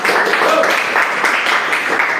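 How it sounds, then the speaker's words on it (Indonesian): Classroom applause from students during a teaching lesson, a dense continuous wash of clapping at close range, loud and even throughout with no clear pauses. "Luar biasa, tepuk tangan."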